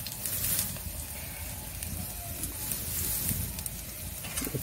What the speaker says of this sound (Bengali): মিক্সচারটাকে আমরা লাল লাল করে একটু ভেজে নিচ্ছি